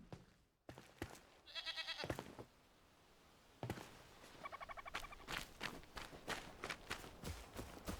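A goat bleats in the fantasy survival game Enshrouded, two wavering cries mixed with thuds, steps and other in-game sounds around them.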